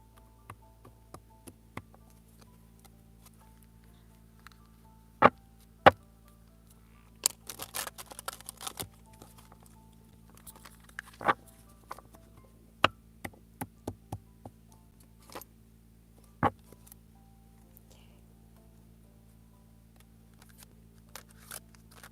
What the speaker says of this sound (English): I'm trying to get better at shuffling big cards with my little hands.